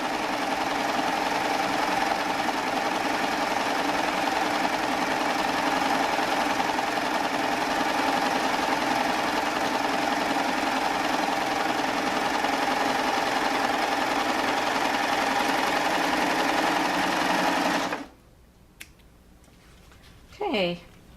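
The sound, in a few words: Baby Lock Triumph sewing machine stitching with lace applicator foot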